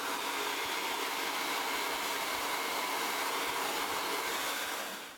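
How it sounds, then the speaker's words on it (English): A handheld blow dryer running on its high setting, a steady loud broadband whoosh that holds evenly for the whole stretch with no pauses or voices. "I'm gonna put my blow dryer on the warm setting and on low."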